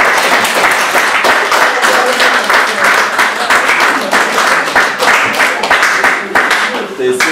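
Audience applause at the close of a lecture on Litvak architectural heritage in interwar Kaunas, a dense, steady clapping sustained throughout at close range, with a few faint voices mixed in.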